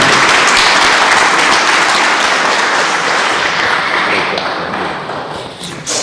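A large crowd applauds loudly and continuously, the clapping dense and sustained before slowly tapering off.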